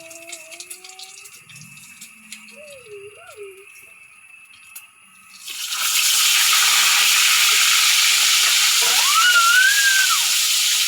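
Fish frying in a pan: a loud, steady broadband sizzle starts partway through and holds to the end, after a quieter stretch of faint background sounds and a brief whistle-like tone.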